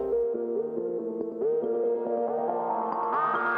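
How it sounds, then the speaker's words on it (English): Synthesizer notes played in quick succession through a delay effect, each repeating and trailing into echoes that stack into a dense, continuous tonal wash. "Here's some delay"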